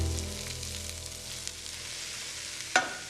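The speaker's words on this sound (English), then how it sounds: "Just frying those vegetables and try not to get colour on them" Chopped leeks, carrots and celery for an ossobuco sofrito fry softly in a hot pan, a gentle steady sizzle with a sharp utensil clatter near the end.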